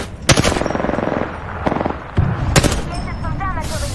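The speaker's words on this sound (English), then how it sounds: "Keep shooting at him." Rapid Apex Legends gunfire in a match: bursts of automatic shots crack in quick rhythmic volleys, with a couple of sharp single blasts, loud and close under someone talking.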